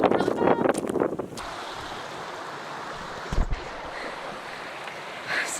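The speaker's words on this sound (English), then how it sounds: "This wind is still really bad." Strong wind buffets the microphone on a road trip in Tasmania, a steady loud broadband roar with gusty bursts at the start and a few thumps partway through, with no talk.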